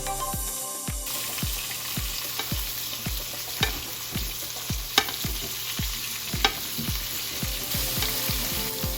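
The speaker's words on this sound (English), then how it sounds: "Tilt the pan and carefully with a spoon, baste the meat all over so that the meat won't get dry." Rack of lamb sizzles loudly in a hot pan while a spoon bastes it, a steady frying hiss punctuated by regular rhythmic clinks and splashes of the spoon, close and alone without talk.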